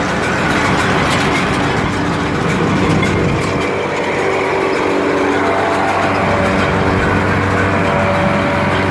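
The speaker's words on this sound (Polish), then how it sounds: "Podbieracz zapierdala tylko gwizd." Claas Variant 260 round baler with its pickup running, a loud continuous mechanical drone with a whining whistle tone and engine rumble, steady and close.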